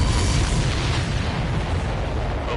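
Explosions in the aerial combat game Ace Combat 7 merge into a loud, dense, continuous booming roar close by, broadband and unbroken across the whole stretch.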